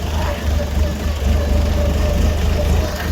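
A tractor engine runs steadily nearby, giving a continuous low, throbbing hum with no pauses across a few seconds.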